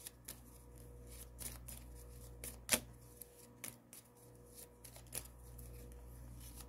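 Guidance cards being shuffled for a tarot-style reading, a soft papery riffle with a few sharper snaps of cards, quiet and close, no talking.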